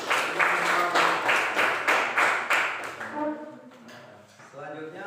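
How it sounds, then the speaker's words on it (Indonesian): A classroom claps for a student, a burst of quick rhythmic applause up close for about three seconds that fades out as a voice begins talking. "tepuk tangan buat dia"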